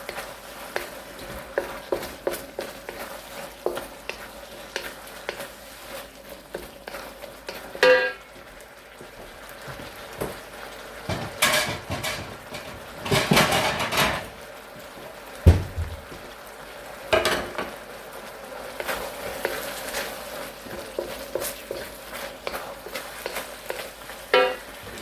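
Scallions sautéing for Mongolian beef: a steady close sizzle and frying crackle runs throughout, with bursts of stirring and scraping in the pan.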